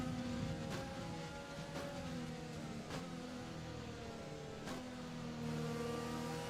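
A Formula 1 racing car engine in the video game F1 2020 revs and climbs through gears with sharp shift blips, a continuous high engine whine played back faintly.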